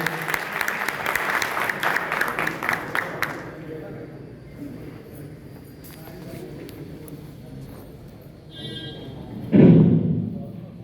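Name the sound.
audience applause welcoming a guest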